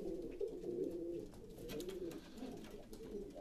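Breeding pigeons in a loft coo in soft, repeated low phrases, fairly faint against a quiet background, with a few light rustles and no speech.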